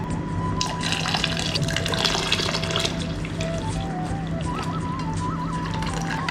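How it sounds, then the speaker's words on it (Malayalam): Jaggery syrup poured into well-cooked, thickened mashed dal for parippu payasam, a steady liquid splashing and trickling sound that runs continuously and fairly close, with no talking. "ഇനി ഇതിലേക്ക് ശർക്കരപ്പാനി ഒഴിച്ചു കൊടുക്കാം"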